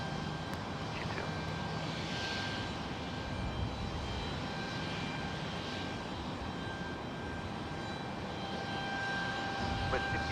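An airliner takes off from runway 30 right at San Jose Airport, a faint, steady distant engine roar with a broad high whine, under low background hiss.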